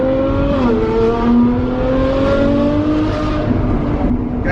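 A Ferrari F12's V12 engine revs loudly from the cabin while driving, with a shift dip early on, then a strong steady howl that climbs gradually in pitch before easing off.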